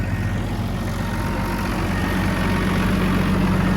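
A Case CS 150 tractor engine idles steadily and close by, a continuous low rumble with an even, unbroken drone and no talking.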